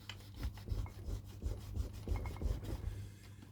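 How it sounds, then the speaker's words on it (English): A cleaning block rubs back and forth along model railway track, a series of short close scraping strokes in a steady rhythm, faint and alone. "Rubbing that forwards and backwards."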